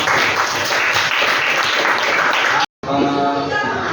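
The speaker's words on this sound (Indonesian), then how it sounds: "Tepuk tangan untuk kelompok 1." A class group in an Indonesian school lesson receives steady, dense applause that fills the room, broken by a brief silent cut before the clapping resumes slightly thinner.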